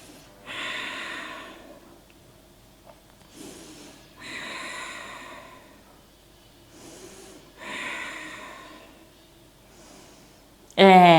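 Deep, slow breaths during a yoga stretch for posture. Three long, loud inhale-exhale cycles sit close to the mic with quiet pauses between them, and a sharp loud burst closes the clip.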